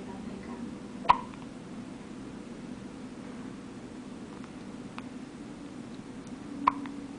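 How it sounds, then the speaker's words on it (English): A young girl hiccups twice in a quiet room, each hiccup a sharp, brief catch about five and a half seconds apart, with soft background hiss between and no talking. "decided to get the hiccups"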